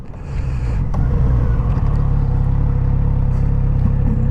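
Kawasaki Z900 RS 2021 motorcycle engine running steadily with a deep, continuous low rumble that swells slightly after the first second and holds a constant level, close by with no talk.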